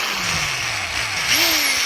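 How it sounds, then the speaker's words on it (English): Power drill boring a pilot hole during a 2.5 Duratec engine build: a close, whining motor hum that holds steady, then briefly rises in pitch as the bit bites. "So we're going to drill our pilot hole first."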